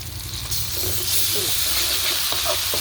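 Ginger garlic paste hits hot oil over browned onions in a pan, giving a loud, bright hiss that swells into a steady sizzle after the first half second, with a few soft scrapes and faint background voices.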